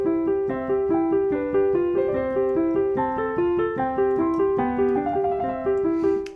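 Mozart piano piece played in an amateur style with unbalanced hands, accompaniment as loud as the melody; a steady stream of even, fairly loud notes for about six seconds, close and alone with no talking.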